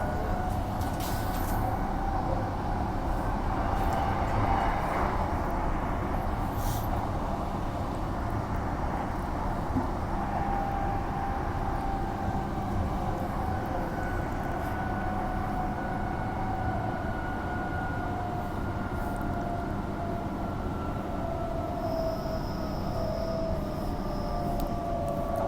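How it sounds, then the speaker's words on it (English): Steady rumble and hum of a 4-car train running on the Armadale to Joondalup line, heard from inside as a continuous drone with faint high whine and occasional rattles, no talking. "4-car train"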